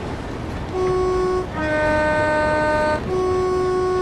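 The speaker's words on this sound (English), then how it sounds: "Where's my horn?" A train horn in the Train Sim World simulator sounds in two loud sustained tonal blasts, the second shifting pitch before the first tone returns, over a steady rumbling background.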